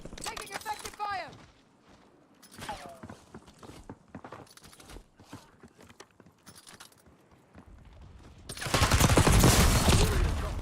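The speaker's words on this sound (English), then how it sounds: "Taking effective fire!" Gunfire in a shooter video game: scattered short shots and clatter under voice chatter, then a sustained loud burst of rapid fire at the end.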